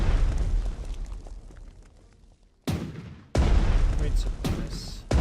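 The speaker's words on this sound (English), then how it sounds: "Okay, some anti-aircraft fire first. Then you're attacking" Anti-aircraft and artillery fire in the strategy video game Panzer Strategy, at Dunkirk: a dense rumble of gunfire gives way to a sudden heavy boom, a short lull, then another loud sustained blast of explosions.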